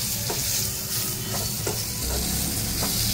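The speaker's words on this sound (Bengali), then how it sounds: "ঝিঙে দিয়ে আলু দিয়ে একসাথে ভালো করে একটু নাড়াচাড়া করে নিলাম" Ridge gourd, potato and slit green chilies are stirred together in hot oil, a loud, dense, continuous sizzle up close with a few soft spatula scrapes at irregular intervals and no voices.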